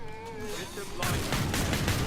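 Rapid gunfire in the video game Killing Floor 2 breaks in after a short stretch of voice, a dense, loud crackle of shots continuing to the end.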